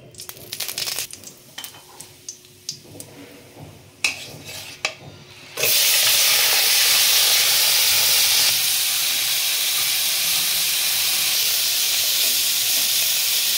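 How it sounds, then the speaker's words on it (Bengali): Prawns for chingri malaikari searing in a little hot oil in a kadai: a few clinks and scrapes, then a loud, steady sizzle that holds without a break to the end. "অল্প তেল দিয়ে আমি মাছটা সাঁতলে নেব।"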